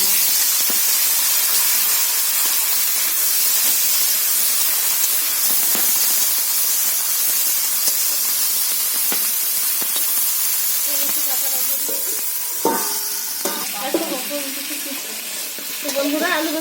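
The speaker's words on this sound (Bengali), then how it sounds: "আলু বেগুনটা ভেজে নেব" Potato and eggplant frying in oil in a wok, a steady broadband sizzle with occasional stirring clatters and scrapes toward the end, close and fairly loud, with no talking.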